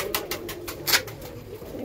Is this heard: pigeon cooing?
yes